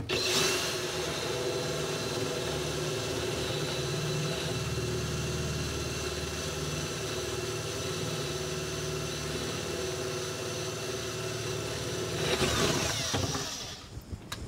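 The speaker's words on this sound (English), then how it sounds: "now we're going to drill the matching hole at the back of the cabinet." Power drill boring a hole in the back of a cabinet, a steady whining motor hum held for about twelve seconds, rising briefly near the end before stopping.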